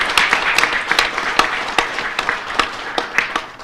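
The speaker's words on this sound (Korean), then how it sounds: "여러분 큰 박수 부탁드립니다." A seated crowd at a Korean political endorsement ceremony for a presidential candidate applauds, with crisp individual claps standing out over a steady wash of hands, fairly close.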